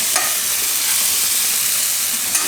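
Stuffed ridge gourd simmers in gravy over a low gas flame for a Gujarati shaak, producing a loud, even, close hiss and sizzle that runs unbroken, with no voices.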